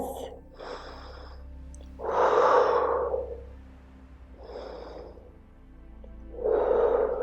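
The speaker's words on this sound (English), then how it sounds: "2 more deep breaths." Deep, slow breathing during a yoga session: several long, audible inhales and exhales, close and rhythmic, with the louder breaths swelling and fading in turn.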